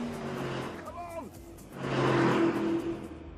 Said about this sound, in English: For lap after lap, the big, heavy Urus clawed at the rear end of the 911 Turbo